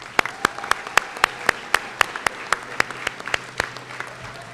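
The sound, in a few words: audience applause at high school graduation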